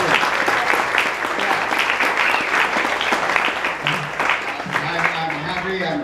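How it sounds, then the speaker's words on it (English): A room full of people bursts into sustained applause, dense steady clapping filling the space at close range, with a few voices mixed faintly underneath. "let's give everybody in the room a round of applause."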